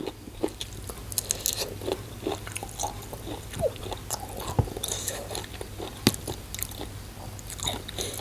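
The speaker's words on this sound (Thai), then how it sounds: "เส้นบะฮุ่งนี่แบบกรอบครับ" Someone bites and chews crunchy, crisp rice noodles close to the microphone, with irregular brittle crunches and crackles repeating throughout.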